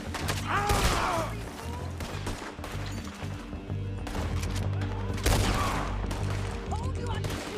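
Gunfire in the Red Dead Redemption 2 video game: sharp bursts of shots ring out near the start and again midway over a steady din of action, with voices faintly mixed in.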